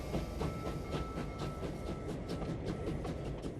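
A train ride in the video game Clair Obscur: Expedition 33: a steady rolling rumble with rhythmic clickety-clack of wheels over rail joints and a faint hiss, continuous and fairly loud, with no voices.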